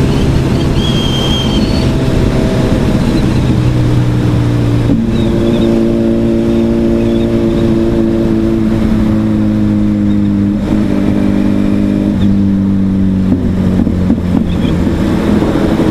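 A Renault Sandero car driving on the road beside a moving motorcycle, its engine drone steady and loud under heavy wind and traffic rumble, with tones shifting as it passes.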